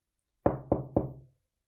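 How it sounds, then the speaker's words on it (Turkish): Three firm knocks on a palace door, evenly spaced and close by, each with a short resonant ring-out, alone in silence. "Orada hepsi kapıyı çaldı ama kimse cevap vermedi."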